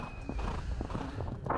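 A horse's hooves clip-clop at a steady walk on the way into a dressage arena, close to the microphone, with a faint high tone and low background rumble.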